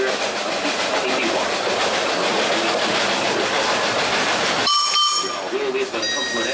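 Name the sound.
sugar cane train running on Barbados railway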